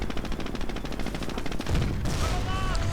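Rapid gunfire crackles through a real-time strategy video game battle, continuous and dense for the whole few seconds.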